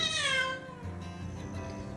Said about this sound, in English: met my other cat, Lizzie.